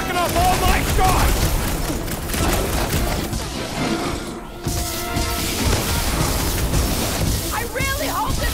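A frantic Guardians of the Galaxy battle in snowy Snowtundra: rapid gunshots blend into crashes and a steady roar of combat effects, with voices shouting over the constant din.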